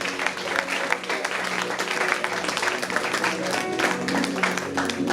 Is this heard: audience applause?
yes